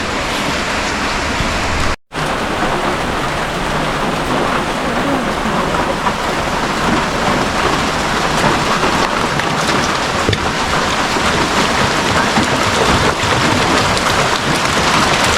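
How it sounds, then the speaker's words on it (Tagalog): Steady, heavy rain falls continuously on surfaces in a rural farmyard with livestock, a dense close hiss with drips that stays unbroken apart from one momentary gap near the start. "Maghapon na naman po yung ulan"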